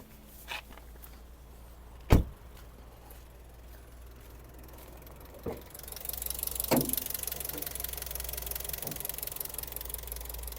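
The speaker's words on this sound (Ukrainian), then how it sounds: "Це в нас зараз двигун працює на газу, чути газові форсунки." A Skoda Octavia 1.6 MPI engine idles steadily on gas with a low continuous hum, and faint rhythmic ticking from the gas injectors sits over it. A few sharp clicks break through, and the sound grows busier and brighter in the second half.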